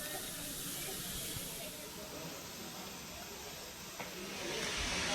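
Steam locomotive on the Strathspey Railway arriving at Aviemore, giving off a steady, broad hiss throughout at moderate distance, with a few faint knocks and a slight swell near the end.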